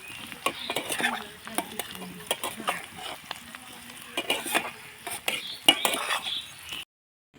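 Garlic fries in a pan while a spatula stirs it, producing a soft sizzle under repeated scraping and clinking strokes of utensil against metal, then cutting off abruptly.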